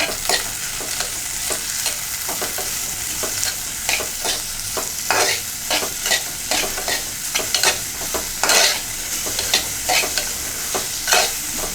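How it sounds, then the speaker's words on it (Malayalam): Onions sautéing with salt in a pan for Kerala kadala curry, with a steady loud sizzle and frequent scraping stirs throughout, close and without talk. "ഉള്ളി ഒന്ന് പെട്ടെന്ന് വഴന്ന് കിട്ടാൻ വേണ്ടിയിട്ട് നമ്മൾ കുറച്ച് ഉപ്പിട്ട് കൊടുക്കുന്നുണ്ട്. നന്നായിട്ട് വഴറ്റുക."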